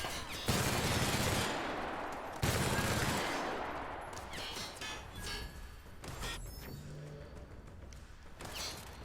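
Bursts of automatic weapon fire in the sci-fi shooter The Outer Worlds: two loud opening volleys, then several scattered shorter ones with mechanical clatter, close and dominant, no voices.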